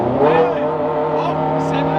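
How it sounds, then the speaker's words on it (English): Supercar engine held at full throttle, a loud sustained high-revving roar with steady harmonic tones across the whole stretch, while people talk over it. "That's full gas. Full throttle."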